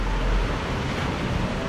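Ocean waves washing into a rocky side pool on the west coast of Oahu, Hawaii, a steady loud broadband rush of surf close by with wind noise on the microphone and no talking.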